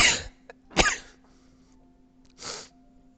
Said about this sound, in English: I had to really sneeze.